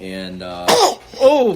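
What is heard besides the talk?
sneeze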